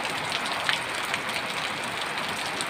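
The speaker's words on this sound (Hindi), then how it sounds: "देखिए इतना बारिश हो रहा है" Heavy monsoon rain pouring down, heard from a rooftop on 9 August, a loud, dense, continuous hiss of drops with no let-up and no talk.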